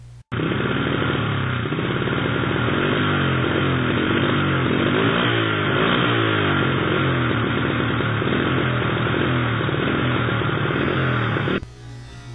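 Riderless motorcycle engine running at night on a road in Malaysia, a loud steady roar with a busy rattling idle that holds for about eleven seconds and then cuts off abruptly.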